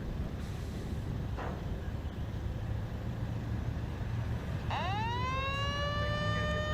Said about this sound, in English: Pit siren sounds